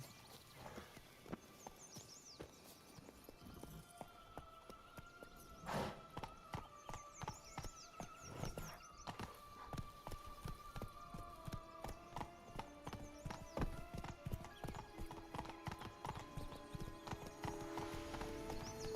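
Hooves of Roach the horse in The Witcher 3, a quiet, steady clip-clop rhythm that picks up pace partway through, over game music with a brief neigh.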